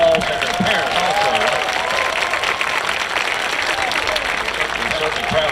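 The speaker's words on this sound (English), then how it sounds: "let's give these seniors a big round of applause and their parents also" Applause and some cheering from a crowd at a high school senior night football game, steady and fairly loud throughout, with a bit of voice mixed into the clapping.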